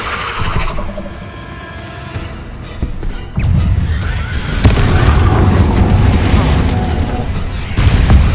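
Confringo fire-blast spell explosions in the video game Hogwarts Legacy: loud booming blasts and crashing impacts that build into a sustained, rumbling barrage of battle noise.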